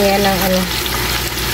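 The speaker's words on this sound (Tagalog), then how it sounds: "Prito ko lang yan siya guys." Food fries in a pan with a steady, close sizzle that runs the whole time, and a few tonal clinks sound near the start.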